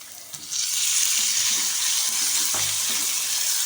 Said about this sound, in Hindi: चिकन भी यहाँ पे अच्छी तरह से फ्राई हो गया है